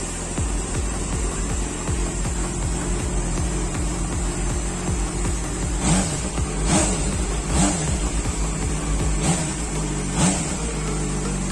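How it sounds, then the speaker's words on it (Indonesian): Yamaha FZ6 motorcycle on its original stock exhaust, running on a cold start: a steady close engine drone with a few sharp throttle blips near the end, no talking. "dengarkan dulu dia punya bunyi exhaust yang original"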